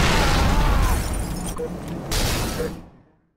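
A frag grenade blows up in Halo Reach Firefight with a loud, close, heavy boom and debris rumble, a second burst follows, and the sound then fades into silence.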